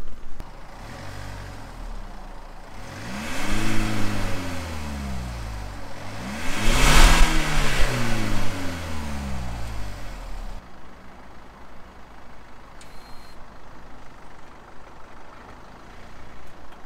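Kia Stinger in sport mode driving past, its engine note rising as it approaches, peaking loudly as it passes close by, then dropping and fading away, leaving faint background noise.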